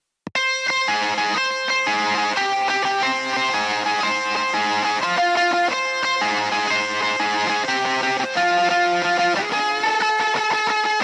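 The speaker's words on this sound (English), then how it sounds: "if we take a listen to just the lead guitar" Distorted electric lead guitar plays a busy, sustained melodic line, loud and steady throughout, with a faint hiss of high noise riding on top.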